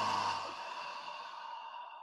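A choir group lets out a breath it had been holding as part of a warm-up, one soft, airy sigh that swells briefly and then trails off quietly.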